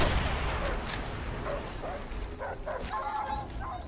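Attack dogs in the video game Call of Duty: World at War, several sharp barks and yips toward the end over a noisy background of distant gunfire, moderately loud.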